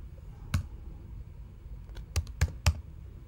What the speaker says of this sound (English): type in an invalid URL